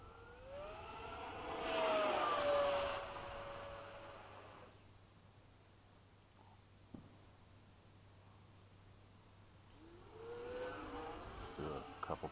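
An FMS 80mm Hawk RC jet with an electric ducted fan flies at dusk, its loud rising whine sweeping past close by, then fading to a distant hum before it swells again near the end.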